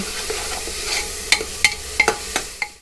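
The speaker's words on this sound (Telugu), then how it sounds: "పచ్చివాసన పోయిందాక ఫ్రై చేసుకోవాలండి అల్లం వెల్లుల్లి పేస్ట్." Ginger garlic paste frying in a pan for chicken pulao, a soft continuous sizzle broken by several sharp scraping and clinking strokes of a spoon stirring against the pan, close and clear with no talk.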